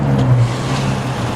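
A Dodge Challenger with a muffler delete exhaust rumbles loudly and close, its deep, raw engine tone surging briefly then holding a steady, throaty drone.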